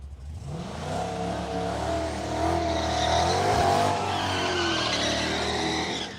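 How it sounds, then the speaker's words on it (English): A drag racing car at a road trip drag challenge skids its tires and revs hard, a loud continuous engine roar with tire squeal rising and falling close by, alone without talk. "He gives it a good skid."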